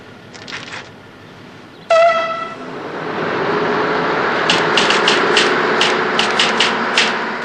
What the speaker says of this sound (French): Et la rame se met en marche.